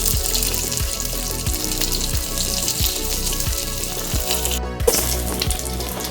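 Hot oil sizzles steadily with a crackling hiss as cinnamon, cloves, green chillies, bay leaf and caraway fry, while regular low knocks repeat underneath like stirring; no one speaks.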